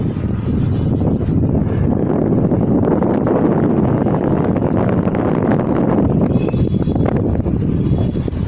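Midday wind gusts steadily across an open city square in Tam Kỳ, a constant loud rumble of wind buffeting the microphone for the whole stretch, with no voices.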